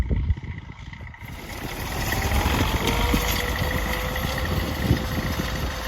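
A Dragon seed drill sows winter wheat into dry ground with fertiliser, giving a continuous, moderately loud mechanical engine drone with rumbling vibration that builds slightly and holds steady throughout.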